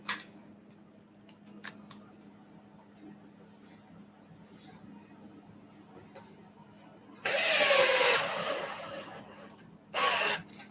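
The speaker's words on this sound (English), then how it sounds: "I hope this drill has enough juice" A power drill whirs loudly for about a second, stops, then gives a shorter burst, after quiet clicks and handling noises.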